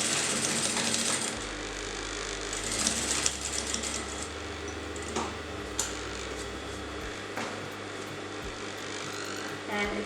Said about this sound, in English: So now I'm going to sew to the outer edge.